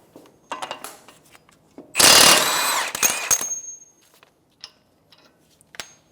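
An impact wrench with a 32mm socket spins off the axle nut on a 2012-2016 Subaru Impreza, one loud rattling burst of about a second, then a few short ratchety bursts and scattered clicks and clanks of tools.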